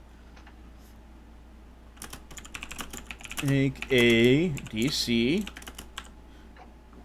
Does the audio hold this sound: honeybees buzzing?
no